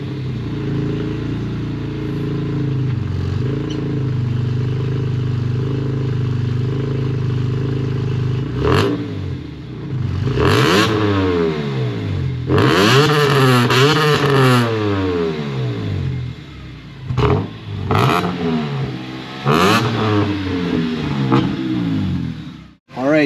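A 2005 BMW E46 M3 coupe's exhaust idles with a steady low burble, then rises in a series of sharp, loud revs that climb and fall back, the blips repeating in a burst near the end.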